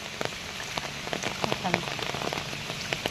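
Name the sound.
heavy rain, water flooding the road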